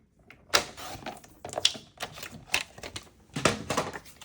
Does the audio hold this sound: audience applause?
no